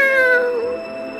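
A single drawn-out meow, loud and close, falling in pitch as it fades; it may be a person imitating a cat.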